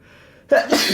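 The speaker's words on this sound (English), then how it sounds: "that was a sneeze" One sudden, loud sneeze up close, an abrupt burst of breath after a quiet moment.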